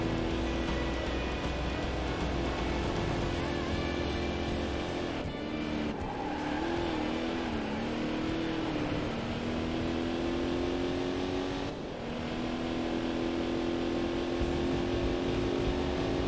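A C4 Corvette race car engine drones steadily through a lap in the Corvette: 50th Anniversary racing game, its pitch rising and dipping through gear shifts under a constant, fairly quiet mix of road and game sound.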